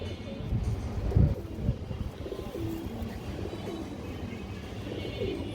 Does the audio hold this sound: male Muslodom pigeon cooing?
yes